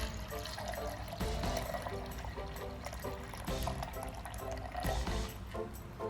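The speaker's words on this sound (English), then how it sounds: "First we are going to add 1 cup of chilled milk to the mixer." Chilled milk is poured into a mixer jar as a steady, close liquid stream with a gurgling, filling sound. It carries on for several seconds over faint background noise.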